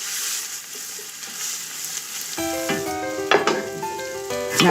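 Tomato passata toasting in a hot pan for short ribs braised in Barolo, a steady close sizzle and hiss with a few stirring clinks and scrapes toward the end.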